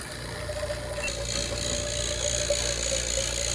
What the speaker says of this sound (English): Alright, we're gonna turn the vacuum on